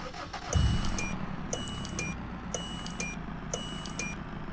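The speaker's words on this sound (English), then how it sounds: "we will go ahead and start it up" A car engine cranks and starts in the BeamNG driving game with a low rumble, then a chime plays four times, spaced evenly, over a steady idle.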